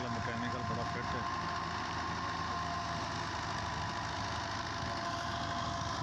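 An old Fiat 640 tractor engine runs at a steady idle-like chug, likely driving a thresher. The mid-pitched drone is continuous and unchanging throughout.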